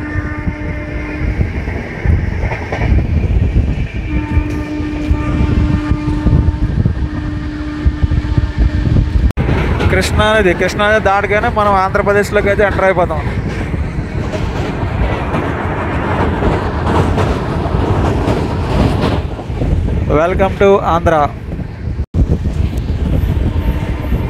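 An LPI-BZA Intercity superfast express runs at speed, its steady rumble and rail clatter loud and continuous throughout, with wheel squeals and rattles rising midway and someone speaking over it.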